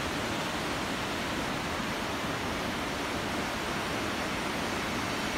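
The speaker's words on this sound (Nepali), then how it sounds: "बर्खाको खोला एकदम उर्लिरहेको अवस्था छ।" Rain-swollen monsoon river near Kathmandu rushing loudly, a dense, unbroken roar of water filling the whole scene with no pauses and no voices.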